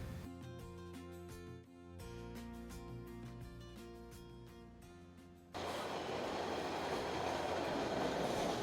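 A train rolls through a train station with steady rumbling and rail noise, first in a tonal, clattering stretch and then, after a sudden rise, a louder broadband roar that holds close and continuous to the end.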